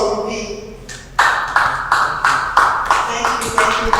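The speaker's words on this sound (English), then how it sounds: "A round of applause for Ruby." Clapping from a small audience at a storytelling masterclass, a handful of distinct, fairly loud claps in an uneven rhythm following a short quiet start, with faint background voice traces.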